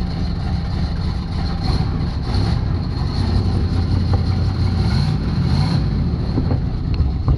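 A 1984 Chevy Caprice two-door V8 runs steadily at idle inside a shop, a continuous low engine rumble with no talking over it.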